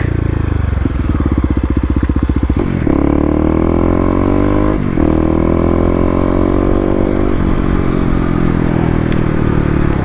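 A 2018 Kawasaki KLX250 dirt bike ridden through a quick U-turn on urban ground: a close single-cylinder engine idles with a loping putter, then revs and pulls away, settling into steady throttle with gear-change dips.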